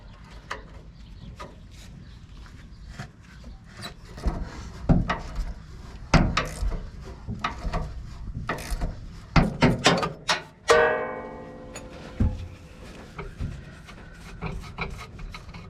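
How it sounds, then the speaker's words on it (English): Vice grips working loose the upper rear shock nuts on a 2020 RAM 1500 during a driveway lift-kit install: intermittent scraping, rasping and dull thunks, with one ringing metallic clank near the end, and no talking. "I'm just gonna use some vice grips on the bottom. Upper rear shock nuts."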